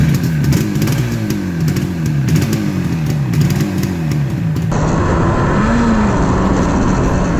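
A Yamaha RD400 motorcycle runs steadily with a warbling engine note, shifting in pitch as it is ridden, close and loud throughout.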